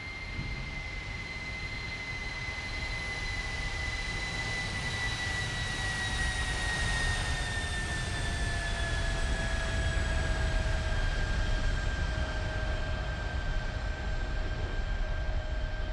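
A Jetstar A320 airliner lands at Adelaide in a flight simulator game, with a steady, loud jet engine roar and a high whine that slowly drops in pitch throughout.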